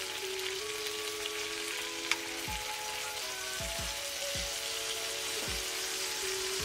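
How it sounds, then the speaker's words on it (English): Lemon juice hits a hot pan used for lobster mac, giving a steady close broadband sizzle and fry hiss throughout, with a few faint clinks and scrapes of stirring mixed in. "We're gonna deglaze our pan with a little bit of lemon juice."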